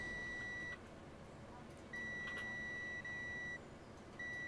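Continuity buzzer of a ZOYI ZT-X multimeter, three steady high-pitched electronic beeps of about a second each, separated by short gaps, clear and close over faint background noise.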